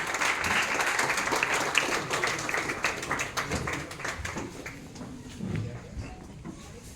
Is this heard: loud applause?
yes